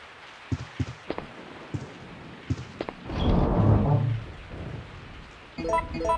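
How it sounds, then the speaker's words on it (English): Falling rain at night in the video game Resident Evil 3, with a soft wash of rain that swells midway, rumbling low beneath it, after a series of sharp ticks and knocks and before a brief electronic tone. "I woke up to the sound of falling rain."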